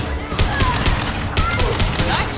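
Rapid bursts of gunfire in the sci-fi shooter Mass Effect 2, sharp repeated shots clustering into two volleys with brief gaps, loud and close, with a voice shouting over the firefight.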